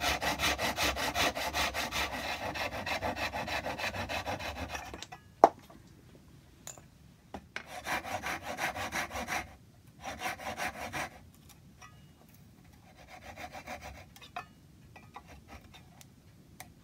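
A saw cuts back and forth through the wood of a stag carving, with a long steady stretch of strokes followed by shorter, separate bursts and a sharp knock between them.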